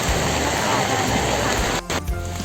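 Rain falling outdoors, a dense steady patter and hiss that is loud and close, with brief dips and a few thumps near the end.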